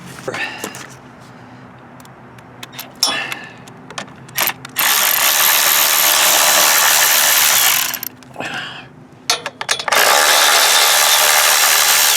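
Hand tools loosen 8mm nuts on the air cleaner assembly of a Westinghouse generator, giving intermittent close ratcheting clicks and handling noises that break into two long loud bursts of broadband noise.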